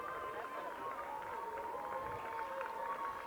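Crowd cheering and murmuring steadily for an athlete finishing a 1,200-meter race at a school track and field championship, a continuous dense wash of voices with scattered shouts, fairly loud and unbroken throughout.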